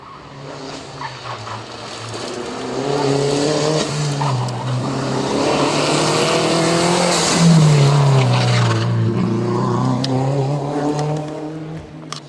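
Rally cars race past on a special stage of the 2021 Rallye Mariña Lucense, their engines building loudly with a rising, then falling pitch as they sweep by close to the spectators, with the roar sustained for several seconds.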